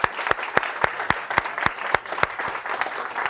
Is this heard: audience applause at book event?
yes